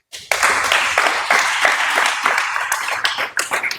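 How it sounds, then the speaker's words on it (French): A group at a French training session applauds, a fairly loud, uneven patter of hand claps lasting a few seconds, with individual claps standing out toward the end as it thins. "on va applaudir pour le groupe 1."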